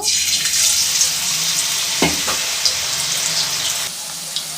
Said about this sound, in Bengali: তেলটা গরম হয়ে গেছে, এখন আমি ভেজে নেব।